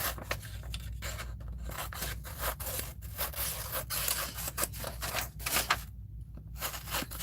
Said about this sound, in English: I'm just trimming off all of the white edges